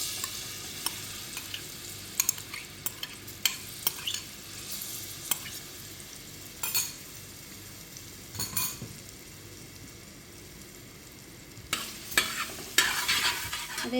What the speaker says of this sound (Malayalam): ഇനി ഞാൻ അതിലോട്ട് നമ്മൾ ഈ കട്ട് ചെയ്ത് വെച്ച മാങ്ങ ആദ്യം ഇട്ട് കൊടുക്കട്ടെ.